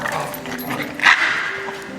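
In a bike shop, a dog gives a short bark or yip about halfway through, over a steady indoor background hum.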